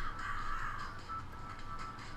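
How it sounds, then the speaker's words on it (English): Crows caw in the Donut County video game, a faint hoarse calling that repeats briefly at low volume with no talk over it. "Maybe I gotta spook the birds."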